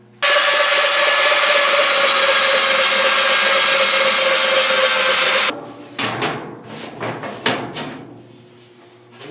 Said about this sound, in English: just a little trim work with the sander, and that piece will be good